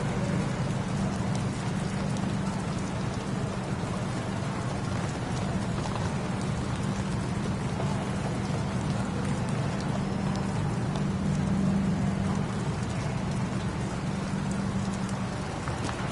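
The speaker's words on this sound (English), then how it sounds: "I think it might be raining where I am." Steady rain falling and pattering on a surface, a constant wash of noise with a low hum underneath and no talking.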